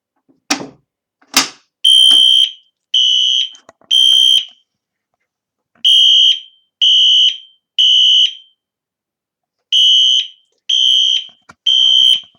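A fire alarm system sounding a code 3 temporal pattern during a test, loud electronic tones in repeated groups of three with gaps between, preceded by two sharp clicks.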